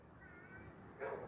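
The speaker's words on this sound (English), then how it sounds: "I think that's a cat." A single faint cat meow rises near the end of a quiet moment, heard at a distance.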